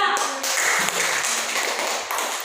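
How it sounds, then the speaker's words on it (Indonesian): Classmates give dense, close applause for group 2 in a classroom. A steady wash of many hands clapping continues without a break for a couple of seconds. "Beri tepuk tangan untuk kelompok 2"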